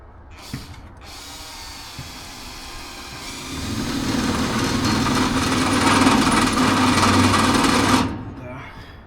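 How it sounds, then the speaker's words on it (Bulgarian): A power drill whines into stainless steel, its high grinding pitch rising steadily for several seconds before stopping abruptly. "нержавейката трудно се пробива"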